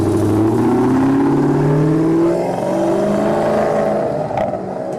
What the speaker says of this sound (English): It's packed with performance and sounds excellent through the exhaust pipes.